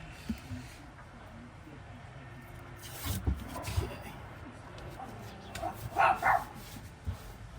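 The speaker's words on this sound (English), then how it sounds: "have no idea what that dog is barking at" A dog lets out a few short barks and yips at a distance, spread irregularly through the clip against a rustling background.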